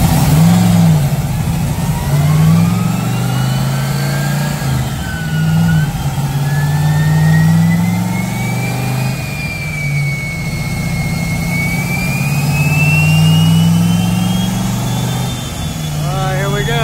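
Carbureted, basically stock 302 V8 with bolt-ons revving up and holding a loud, steady drone that rises and falls in pitch, with a voice talking over it.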